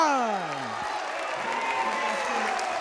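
A high school boys varsity basketball crowd cheers and applauds after an and-one drive to the basket, a steady loud roar filling the gym while a voice speaks over it.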